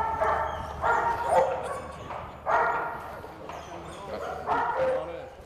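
Military working dogs bark and yip in short bursts spaced a second or two apart, moderately close, over a low background hum.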